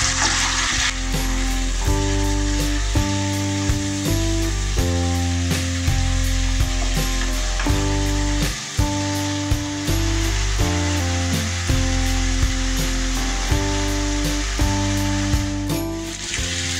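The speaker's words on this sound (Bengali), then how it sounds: "এটাকে ভালো করে কষাবো।" Turmeric powder, chili powder and salt fry in a pan for a taro curry, a constant sizzling hiss running beneath steady background music, with no talking.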